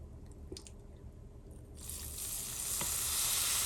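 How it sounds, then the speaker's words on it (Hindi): Hot oil poured over ginger garlic paste with turmeric and salt bursts into a loud, rising sizzle partway through, after a quieter stretch of faint kitchen noise. "अब इसके अंदर गरम किया हुआ ऑयल डाल देंगे हम"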